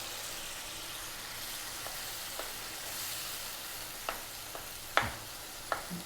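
Brain pieces for bheja fry sizzle steadily in a hot pan, a continuous close frying hiss broken by a few sharp clicks and scrapes of a spoon against the pan.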